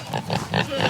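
Pigs named Junie and Cooney grunt and oink in several close, repeated bursts while waiting to be fed on a homestead, their calls loud and rhythmic with no talk over them.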